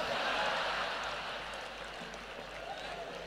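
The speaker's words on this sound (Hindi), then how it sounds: "समापन पर तालियां जोरदार बजा देना वरना इसको फिर शुरू कर सकता हूं मैं" Applause from the audience at a Hindi comedy poetry show, a fairly faint, even wash of clapping from a crowd that holds steady for a few seconds and eases off slightly.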